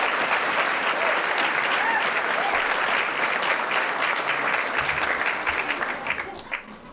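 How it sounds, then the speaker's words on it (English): An audience at a Boys & Girls Club of the Peninsula celebration, marking 20 years with the Center for New Generation, bursts into a dense, sustained round of applause that stays loud for several seconds before thinning out toward the end. "Let's give them one more round of applause."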